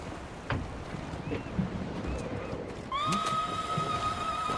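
A horse in a video game whinnies with a drawn-out tonal call over steady outdoor ambience, after a few scattered soft thumps.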